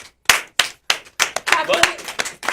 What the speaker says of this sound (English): Everyone claps.